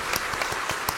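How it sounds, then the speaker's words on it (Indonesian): Congregational clapping at an Easter church service, a short burst of scattered, fairly faint hand claps with no speech over it. "Kita beri tepuk tangan buat Tuhan dulu yuk."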